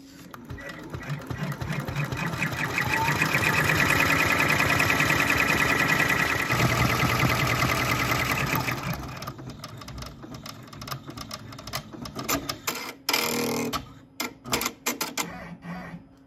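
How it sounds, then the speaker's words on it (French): An embroidery machine stitching a 3D motif runs with a loud, steady rapid mechanical chatter for about nine seconds, then stops and gives way to quieter intermittent clicks and handling noises. "je reviens à la machine et je vais continuer la broderie"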